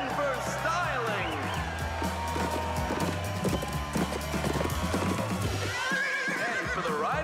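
Toy horse from the Barbie Ride 'N Style playset neighing and whinnying with clip-clop hoof sounds, loud and continuous, mixed with music and other layered sounds throughout.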